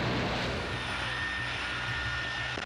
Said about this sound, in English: The runway becomes a staggered stream of jet wash, heat distortion, and roaring engines.